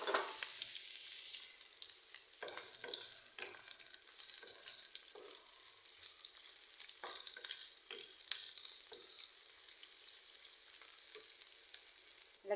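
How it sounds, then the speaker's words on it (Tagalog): Shredded chicken and onions sizzling in a hot pan, with steady frying crackle and repeated sharp scrapes and clinks of a utensil stirring against the metal, close and fairly loud throughout. "gigisahin na natin siya. Lagyan na natin yung sibuyas."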